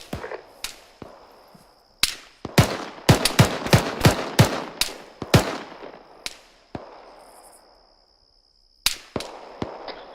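Gunfire in the video game ArmA 3: sharp, close cracks fired in quick bursts, each with a short ringing tail. Single shots open the sequence, a dense volley follows, then a pause before a few more shots.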